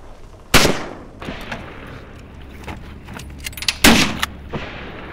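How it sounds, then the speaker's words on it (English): Gunshots fired outdoors during a moose hunt: two sharp, loud blasts about three seconds apart, each with a brief rolling echo, against quiet open-air background. "Who shot that one?"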